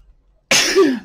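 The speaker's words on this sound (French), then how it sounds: "j'ai éternué alors qu'il fait chaud" A single sudden sneeze bursts out of silence, close and loud, with a short voiced tail, from a woman indoors on a hot day with fans running.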